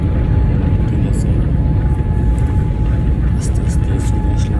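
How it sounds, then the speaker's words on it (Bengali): Airliner cabin during landing on a flight from Bangladesh to Rome: a loud, steady, close engine and airflow roar with deep rumble that fills the whole stretch, plus brief faint higher hisses. "বিমানের ভিতরে আছে, বিমান ল্যান্ড করছে"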